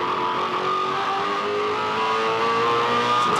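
A 2007 V8 Supercar engine pulls hard uphill toward a corner at the Desert 400 race, a steady, close, loud onboard roar with rising harmonic tones as it accelerates in gear, and no voices over it.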